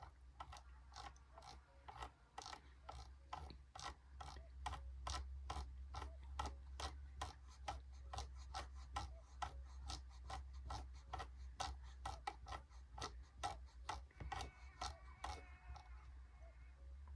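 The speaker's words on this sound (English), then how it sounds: "get your screwdriver out, scroll up 50 times" A screwdriver turning a screw in the My Summer Car game, a long run of rapid, evenly spaced ratcheting clicks over a low steady hum, close and fairly loud.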